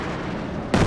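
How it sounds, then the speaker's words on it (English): Heavy gunfire and explosive booms in the Company of Heroes 2 war game, a continuous rumbling barrage that jumps into a louder, closer blast near the end. "He's shooting."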